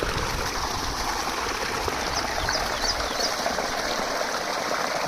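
Water flows steadily along an irrigation channel on a farm, a constant close rushing and trickling wash with no pauses.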